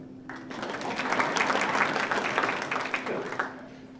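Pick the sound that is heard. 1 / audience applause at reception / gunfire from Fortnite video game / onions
audience applause at reception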